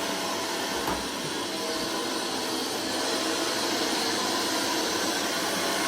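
A Hoover vacuum cleaner runs steadily in a kitchen, its loud, continuous whooshing roar holding unbroken and close for the whole stretch.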